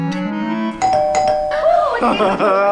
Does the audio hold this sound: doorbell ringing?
yes